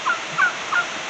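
Three short, bright bird calls spaced evenly apart over steady background hiss, a turkey gobbling at moderate distance.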